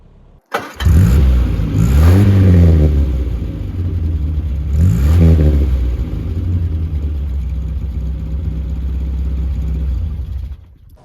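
A Morris Minor 1000 engine starts and revs hard twice, rising and falling in pitch, then holds a rumbling idle before cutting off, heard close up from the rear.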